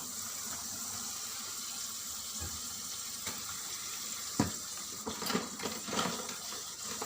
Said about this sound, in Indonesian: Dan kita isi sekali lagi untuk air dan sabun